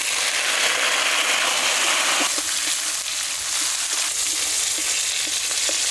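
Chopped tomatoes hit hot oil with onions fried deep red, along with whole garam masala, dried red chillies, bay leaves and cumin, setting off a loud, steady, close-up sizzle that crackles on without a break.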